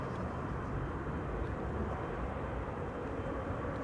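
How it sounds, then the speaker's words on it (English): An Air Canada Airbus A330-300 arriving from Toronto at Amsterdam Schiphol, a steady, fairly loud broadband jet roar that holds constant throughout without talk. "This is Air Canada flight 808. Arriving from Toronto in Canada, A330-300."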